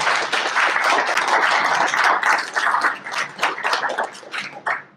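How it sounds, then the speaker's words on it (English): An audience applauds at a book launch in a public library, a lively burst of close hand clapping that thins out and tapers off toward the end. "Everyone give him a big round of applause."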